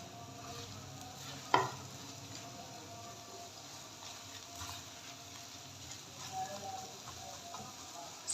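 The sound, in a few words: egg bhurji stirred and broken up with a spatula in a pan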